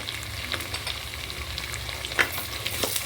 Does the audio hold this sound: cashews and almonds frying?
yes